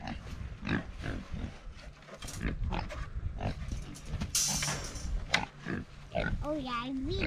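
Pigs in a farm pen grunting and snuffling intermittently at close range, mixed with people talking and some wooden knocking and handling noises.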